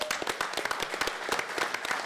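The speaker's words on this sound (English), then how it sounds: "Let's give him a round of applause." A seminar audience breaks into applause, individual claps distinct and sharp in a brisk, uneven patter at moderate volume, fairly close.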